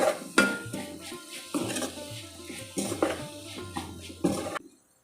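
A spoon scrapes and knocks against a pan while stirring shepu (dill greens) bhaji with kokum, with several sharp clinks and soft scraping between them, close up and then abruptly silent.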